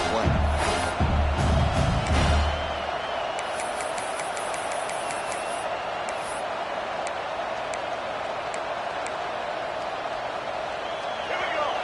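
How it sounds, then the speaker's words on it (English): A stadium crowd in the college football video game CFB26 roars steadily on a fourth-down play, a broad continuous wash under a commentator's voice. "this crowd trying to help this defense rise to the occasion"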